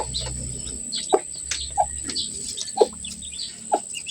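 A newly hatched chick peeps close by in short, sharp calls at irregular intervals, with some low clucking and quiet household noise between the calls.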